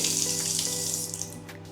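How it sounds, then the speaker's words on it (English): A running tap pours water steadily into a bath in a city apartment, a continuous close splashing hiss that holds even for under two seconds before easing slightly, with no voices. "Just turn them out to the right to turn the tap on"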